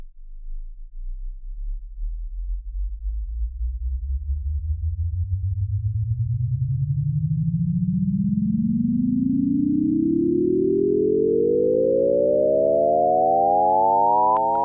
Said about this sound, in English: Anyway, we have this delay set up.